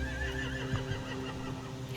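Horses whinnying in The Walking Dead: The Final Season game; a continuous, fairly quiet neigh with a wavering tonal cry and faint hoof shuffling underneath, no talking.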